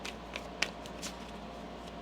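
Tarot cards shuffled by hand during a reading, a soft, faint riffling and brushing with a few light snaps, one sharper flick standing out briefly.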